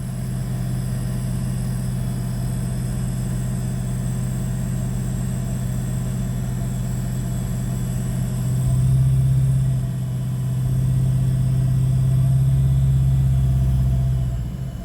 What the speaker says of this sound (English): I'm gonna go try to rev it up.